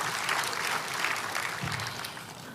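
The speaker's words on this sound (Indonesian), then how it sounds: "Beri tepuk tangan yang meriah buat Tuhan." Church congregation applauding after a sermon, a dense, steady wash of clapping from many hands that holds at moderate loudness without any speech.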